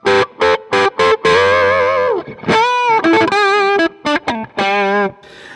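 A fuzzy, distorted electric guitar through a Quad Cortex plays short staccato chords, then held, bending notes with a thick saturated tone, loud and up close.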